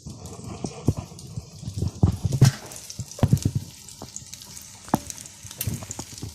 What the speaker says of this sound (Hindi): ये मैंने एक डाल दिया है, ये फ्राई हो रहा है।